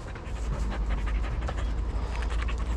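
A Belgian Malinois pants rapidly and rhythmically up close, with quick breathy huffs.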